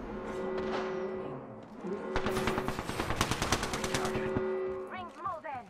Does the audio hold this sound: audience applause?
no